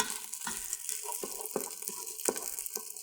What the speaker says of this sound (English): I'm packing it down just so it gets a nice stir fry at the bottom